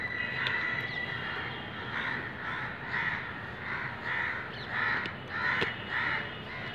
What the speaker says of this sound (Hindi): ये 3-4 चिल्ला रहे थे और इन्होंने इतने सारे इकट्ठे कर लिए चिल्ला चिल्ला के।